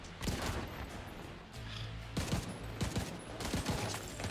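Gunfire rattles in a firefight in The Division 2, with bursts of rapid shots and sharp cracks spread across a few seconds over a busy game background, fairly close and loud.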